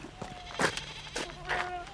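Goats from a farm herd of Saanen and British Alpine crosses bleat twice, a short wavering call and then another about a second later, fairly close and distinct over a quiet background.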